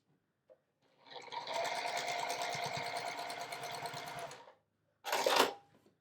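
A domestic sewing machine stitches a quarter-inch seam through red and white quilt cotton, running in one steady rapid whir for about three seconds, then a short second burst after a pause, close and alone.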